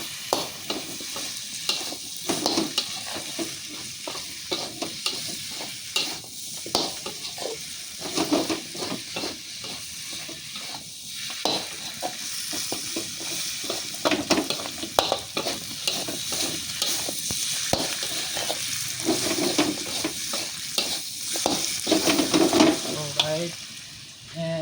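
Tofu stir-frying in a hot pan with salt and pepper powder, a steady sizzle and hiss under constant spatula scraping and tossing, loud and close throughout with no talk.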